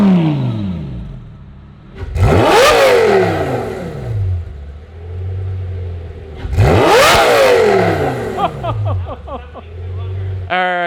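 A Lamborghini Gallardo Superleggera fitted with a Kline Inconel X-pipe exhaust revs hard twice, each loud rising scream falling back to a burbling idle, with brief crackles between.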